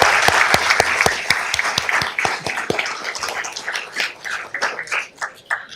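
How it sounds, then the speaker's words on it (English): Applause at a city council meeting for firefighters, with sharp distinct claps from a modest group that start loud and thin out to scattered claps toward the end. "Can you please give them a round of applause?"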